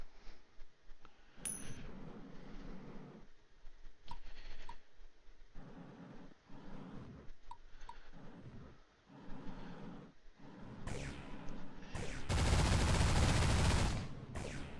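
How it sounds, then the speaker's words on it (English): Machine gun fire in the space shooter game Destination Sol, heard as scattered bursts of rapid shots that end in a louder sustained burst, with game effects in the background. "As you can see, this machine gun doesn't have the greatest accuracy unless you're up close."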